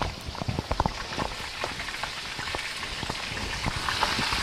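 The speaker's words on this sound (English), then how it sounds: "Close it to hide that sizzle" Steady crackling sizzle of fish frying in hot oil, a dense hiss with scattered pops, continuous and fairly close, no talking.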